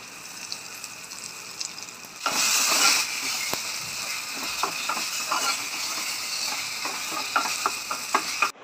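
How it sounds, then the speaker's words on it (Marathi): Ground spice paste for a Mumbai-style vada pav filling sizzles and fries in a pan, a steady hiss that jumps louder partway through as stirring scrapes and taps recur throughout. "केलेलं तर ते वाटून तळून घेऊया थोडं"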